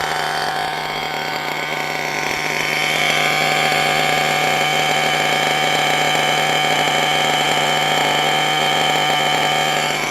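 Small model engine on test ticks over at a steady idle, a continuous even buzz with a strong tonal whine, close and loud throughout with no talk.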